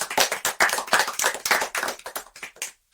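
A small group claps briefly after a talk at an international technology web conference, a few close, uneven claps in quick bursts that thin out and stop within three seconds.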